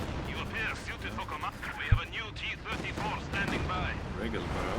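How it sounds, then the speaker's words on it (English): Artillery barrage in a multiplayer video game match, with dense rumbling and crackling impacts running continuously under steady commentator talk, and one sharp, louder thump standing out near the middle. "Thanks for the barrage coming in."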